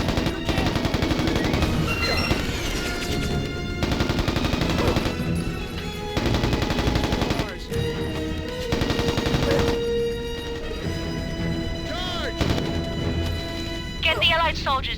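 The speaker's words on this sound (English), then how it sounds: "I'm hearing reports of intense shelling in the area" Gunfire and shelling in the video game Mercenaries: Playground of Destruction, rapid bursts of shots and booming blasts crowding the scene at close range, mixed with game music and voices.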